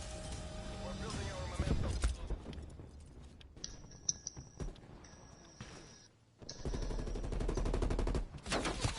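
Rapid automatic gunfire in the Call of Duty: Black Ops Cold War beta comes in dense bursts with other game effects and tonal beeps, loud and close, and a player talks over parts of it.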